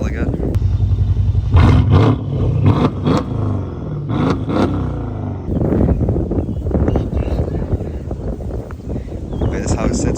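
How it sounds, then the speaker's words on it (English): A stage 2 tuned Mercedes S550 with a quad exhaust rumbles and revs, loud and close, while people talk over the first half before the engine noise carries on alone. "his car is also stage 2 tuned, so it's pretty fast and it sounds hella good"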